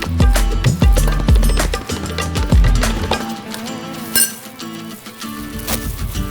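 A spoon clinks and scrapes in a bowl as coconut and dry milk powder are mixed, with quick repeated taps over the first few seconds that then thin out, all under background music.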